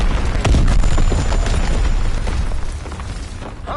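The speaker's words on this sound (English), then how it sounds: "Incoming enemy artillery." Enemy artillery shells land in Call of Duty WW2 multiplayer, a loud sustained barrage of deep booming blasts that crowd together early on, then ease slightly toward the end, with no talk over them.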